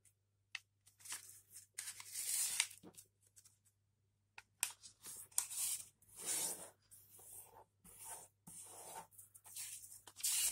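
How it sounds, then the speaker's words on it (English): Sheet of origami paper folded in half diagonally on its white side, with soft crinkling rubs and sharp creasing swipes coming in bursts across the span, close and fairly quiet. "on the white side, we're going to fold it in half diagonally like this"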